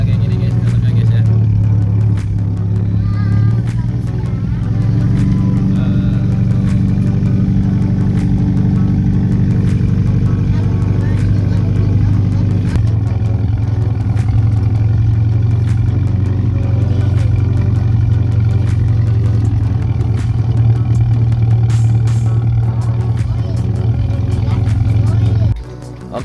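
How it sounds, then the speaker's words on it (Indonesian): A Nemo shuttle car climbs uphill at a Pangalengan tourist spot, its engine giving a steady, loud low drone from start to end, with a brief shift in tone about halfway through. "Nih pakai mobil jemputan Nemo."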